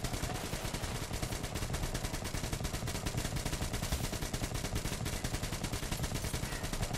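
Sustained, rapid machine-gun fire in Metro Exodus, a continuous rattling stream of shots at an even rhythm throughout, fairly loud and dense with no talk over it.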